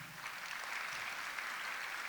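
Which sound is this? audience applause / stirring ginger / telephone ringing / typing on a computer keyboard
audience applause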